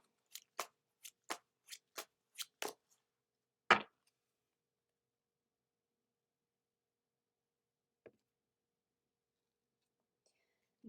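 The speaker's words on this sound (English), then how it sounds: "Next, we'll pull a card from the Motivational card deck." A deck of motivational cards being shuffled: a quick run of about eight crisp, evenly spaced card snaps, then one louder slap and a faint tap after a long quiet gap.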